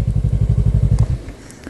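A motorcycle idling close by as it is parked, its engine putting out a rapid, loud, rhythmic low thumping that cuts off after about a second, followed by faint clatters.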